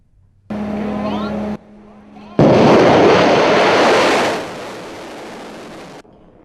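A Shaheen nuclear-capable missile launches with a sudden, loud, broadband roar that holds for a couple of seconds and then fades away, after a brief tonal hum.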